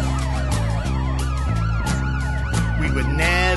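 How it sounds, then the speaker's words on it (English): Several wailing emergency sirens overlap after the 7/7 Tavistock Square bombing in London, sweeping up and down continuously over a rhythmic low pulsing, loud and close throughout. "Sound of sirens that remain so potent."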